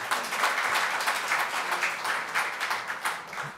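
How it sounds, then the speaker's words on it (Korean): Audience applause at a public hearing as a lawmaker comes up to give opening remarks, steady dense clapping from a seated crowd throughout, fairly close and even in level. "나오실 때 큰 박수 부탁드리겠습니다"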